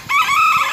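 A Serama junglefowl rooster crows from a tree, one short, loud, close call that holds steady and clear with nothing else heard.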